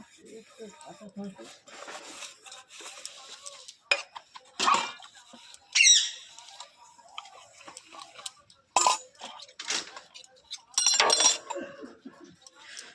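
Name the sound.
dishes being washed, clinking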